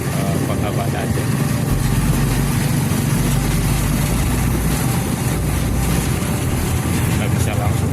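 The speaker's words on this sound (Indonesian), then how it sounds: "lebih bagus naik beca motor ya kalau mau tahu" A motorized rickshaw (becak motor) engine runs steadily through Banda Aceh streets, a loud, continuous rumble filling the whole stretch with a constant low drone and no clear gaps.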